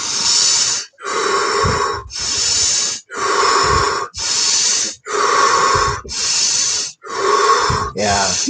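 Wim Hof style breathing, a rapid run of forceful rhythmic breaths pushed in and out about once per second, loud and close, with no pause between cycles.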